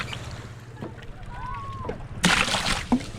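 Water is tossed and sloshes loudly in a sudden splashing burst near the end, following quieter boat and water ambience with voices talking and a faint bird chirp.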